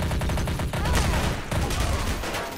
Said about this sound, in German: Panda darf mal mit der Golden Deagle auf jemanden schießen.